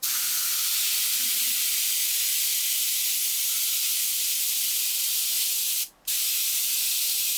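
An airbrush blows a steady, close hiss of air to dry a coat of thinned Warhammer miniature paint, running continuously with one brief cut-off near the end before resuming; no talking.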